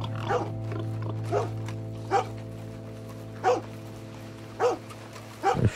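Dog barks in Red Dead Redemption 2, a handful of sharp single barks spaced a second or so apart over a steady low game hum, fairly distinct and alone.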